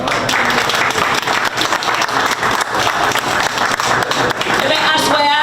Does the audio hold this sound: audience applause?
yes